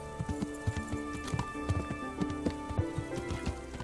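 Horse hooves clop in a brisk, uneven rhythm over a soft background ambience in Kingdom Come: Deliverance, several animals trotting at once.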